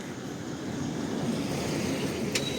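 A small river flowing through a resort town, heard as a steady broadband wash of running water with no talk, continuous and fairly close throughout.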